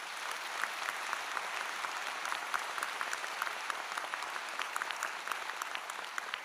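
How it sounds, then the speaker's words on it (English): Audience at a Seton Hall law school commencement ceremony claps steadily, a dense even applause from a large crowd heard alone at moderate distance without talk. "Please give all of our guests some applause there."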